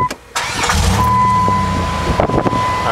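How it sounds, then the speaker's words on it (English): A 2002 Dodge Caravan Sport engine cranks and catches after a short quiet gap, then settles into a steady idle, close by with a little wind buffeting the microphone. "I'm going to start the car."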